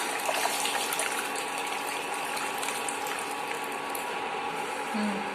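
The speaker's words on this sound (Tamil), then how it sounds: "இப்போ இந்த மசாலா கூடவே நம்ம கரைச்சி வச்சிருக்கிற புளி தண்ணி சேர்த்துக்கலாங்க" Strained tamarind water poured into blended masala for a Jalebi fish curry, a steady splashing gush of liquid running continuously and close.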